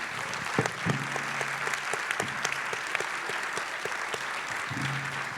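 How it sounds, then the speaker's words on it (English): Steady applause from an audience at a Bitcoin conference, many hands clapping continuously at moderate distance, with a faint voice briefly surfacing underneath. "Let's give a big round of applause to Sarah."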